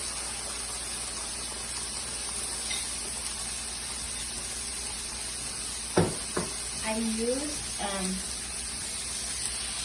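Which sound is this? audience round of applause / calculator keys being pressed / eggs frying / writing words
eggs frying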